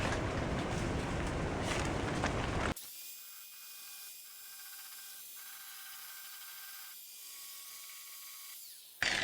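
Power tool cleaning up welds on a patch panel during rust repair on a 1965 VW Beetle; after a burst of loud broadband grinding, a steady whining tool runs with tonal lines, stopping and restarting briefly, then loud noise returns.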